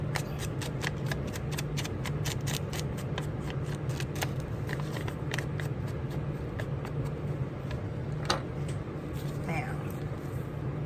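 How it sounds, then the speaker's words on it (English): Paper pages are ripped by hand for a craft project, making a long run of rapid, crackly tearing bursts, fairly close and continuous, over a low background hum. "I'm gonna rip some of this down."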